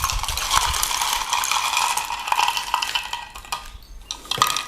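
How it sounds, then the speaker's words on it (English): Ice cubes clatter and rattle into a cup while an iced vanilla latte is being made, a busy run of clinks and knocks lasting several seconds. "fill your cup with ice"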